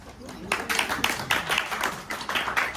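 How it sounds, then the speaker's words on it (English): Guests at a Women in Business reception applaud a tech CEO, with a modest round of clapping in uneven, pulsing bursts from a smallish gathering at moderate distance. "So big round of applause"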